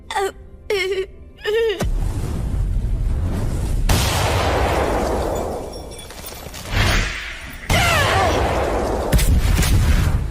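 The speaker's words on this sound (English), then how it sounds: "Oh no! Is the building exploding?" Building exploding in an anime scene: a brief wail opens, then a sudden deep boom gives way to long roaring rumble with further crashing surges, loud and sustained throughout.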